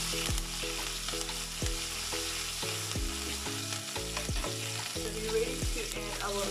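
Roasted mango with thyme frying in a pan makes a continuous hiss and crackle throughout, with rhythmic background music playing over it.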